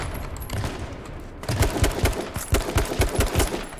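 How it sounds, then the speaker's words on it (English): Shotgun fire in a video game: a rapid string of sharp, close gunshots starting about a third of the way in, popping in quick irregular bursts over low background game noise, with no voices. "He's shooting with a shotgun."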